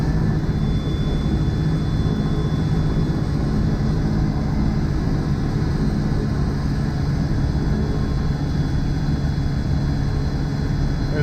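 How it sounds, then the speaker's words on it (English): A Beechcraft King Air A90 turboprop engine runs steadily after start-up, a loud continuous drone with a constant high whine on top, heard from the cockpit with no talk and no change in pitch. "Engine 1 starting. Okay, rotation there. Prop spinning."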